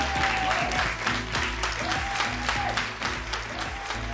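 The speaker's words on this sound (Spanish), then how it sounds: "para ustedes es este fuerte aplauso" Loud, sustained applause from a studio audience at the grand final of an awards show, dense clapping without pause and a faint voice under it.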